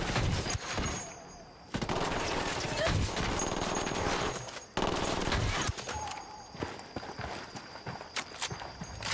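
Video-game gunfire in Ghost Recon Wildlands crackles in sharp bursts and volleys, with brief gaps between them and some talk underneath.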